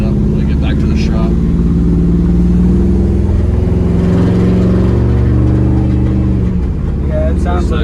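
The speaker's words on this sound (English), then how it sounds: "What is that noise back there? Exhaust. Just hanging. I think it might be loose." A rumbling Hemi V8 engine in a 1998 Ram 1500 van drones loudly inside the cabin, with a rattly, droning tone from a loose, hanging exhaust and occasional voices talking over it.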